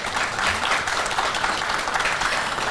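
Loud, dense audience applause welcoming a guest at a city conclave event, sustained throughout without speech.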